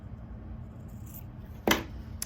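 Scissors snip once through a fabric binding strip, a short crisp cut rising out of quiet room hiss, close by and with no talking.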